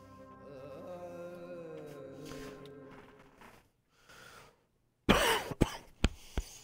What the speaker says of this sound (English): Yeah, damn, my cough is bad.